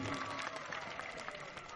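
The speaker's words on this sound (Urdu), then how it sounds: "زوردار تالیوں سے ان کا استقبال کیجیے" Audience applause welcoming guests onto the dais at an Urdu literary evening honouring Maulana Hasrat Mohani; a steady, fairly faint wash of clapping hands fills the whole stretch without pause.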